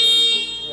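An electric scooter's horn sounds as a steady, loud electronic tone, continuous for under a second with no talking over it.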